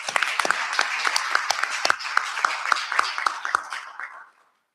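A round of applause from the audience at a board of education public meeting, steady clapping with sharp individual claps standing out for about four seconds before stopping abruptly.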